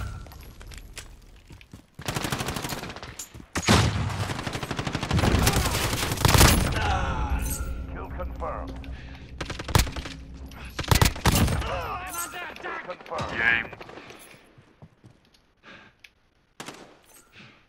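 Video game shooter gunfire, with rapid bursts of automatic shots and scattered single cracks, loud at first and then more sporadic, while a player talks over it.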